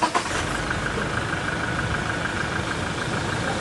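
A Toyota Innova engine, filled with three litres of flushing oil, starts with a brief crank burst and then settles into a steady, even idle close by.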